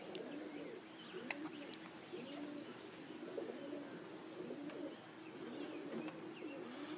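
Pigeons in a loft holding about 28 young birds coo softly and steadily, a continuous soft chorus of rolling coos with occasional faint chirps and wing sounds, no talking.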